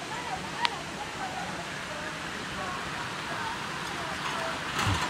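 River water flows steadily during a slow boat ride on a river at Hacienda Nápoles, a continuous wash of broadband rushing sound with a faint click near the start and a brief bump at the end.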